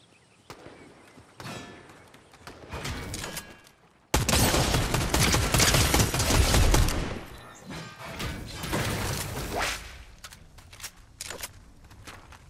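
Gunfire in the video game Fortnite, a burst of rapid shots and a long loud fusillade in the middle, with scattered footsteps and game effects before and after.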